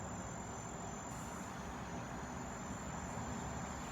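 Crickets chirp at night in a faint, continuous high trill over a soft background hiss.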